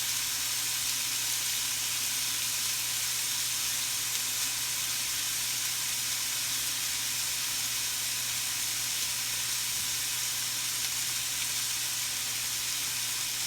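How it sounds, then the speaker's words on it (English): Rib eye steak searing on a grill pan indoors, a steady loud sizzle and hiss that runs unbroken throughout, with no talk over it. "I got that side seared off."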